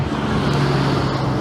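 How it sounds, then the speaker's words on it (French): Cars passing on a nearby road, a steady broadband traffic rumble with a low engine drone that stays constant and fairly loud throughout, with no talk. "Bon, il y a des voitures là."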